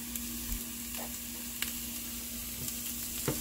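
Minced garlic frying in a pan for meatballs, a low continuous sizzle with a few soft scrapes and light clicks from stirring, close and fairly quiet.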